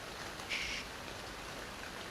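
Steady, fairly quiet rain hiss from the ARK: Survival Evolved video game, a constant wash of falling rain with a brief faint chirp partway through and no voices.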